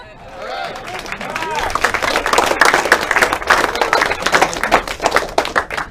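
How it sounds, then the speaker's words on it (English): Clapping from a small group, beginning softly and quickly building into dense, close, irregular applause that carries on steadily to the end, with a few murmuring voices underneath. "And then it awkwardly cuts to clapping when Vince kisses the girl"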